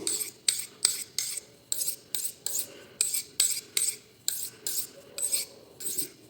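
A blade scrapes rhythmically across a natural whetstone, about a dozen quick rasping strokes in steady succession, close and clear.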